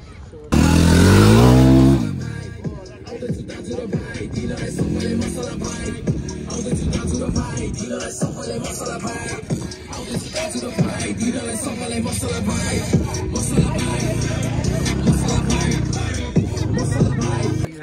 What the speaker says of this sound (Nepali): गाडी चलिरहेको छ यहाँ